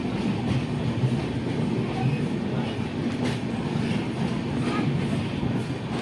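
A train arrives at Guntur railway station in a steady rumble of rolling wheels and carriage noise, with faint voices in the background.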